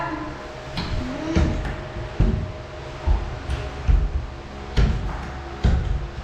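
Drawers of a closet cabinet are pushed shut in a series of wooden thumps and knocks, with a few faint scrapes and squeaks between them over a steady hum.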